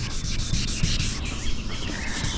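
Wet sanding a car's paint by hand makes a continuous close, rough rubbing swish with a quick back-and-forth rhythm, loud and alone without talk.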